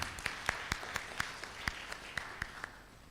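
Scattered handclaps welcome authors at the 2023 IRSK inaugural conference: sharp, evenly spaced claps about four per second over a quiet room hum, faint and sparse, as from a few people only.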